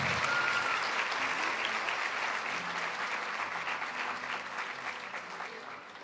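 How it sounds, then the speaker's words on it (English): Warm applause from the audience at a school district honors night for educators and students, a full crowd clapping loudly at first, then gradually thinning and fading toward the end. "let's have another round of applause"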